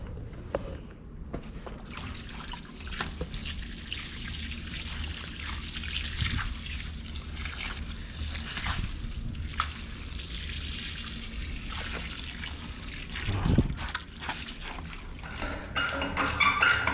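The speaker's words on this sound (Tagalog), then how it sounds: "So pinarabas muna natin yung tubig niya." Water trickles and pours steadily out of a water pump being drained, a continuous close splashing flow with a brief louder gush near the end.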